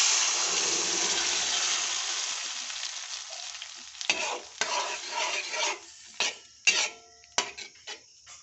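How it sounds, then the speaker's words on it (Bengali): Boiled moong dal tipped into a pan where something has been lightly fried, a steady sizzle giving way to a series of separate scraping stirs and clatters, close and fairly loud with no talk. "এরপর আমি সিদ্ধ করে রাখা ডালটা দিয়ে দিচ্ছি।"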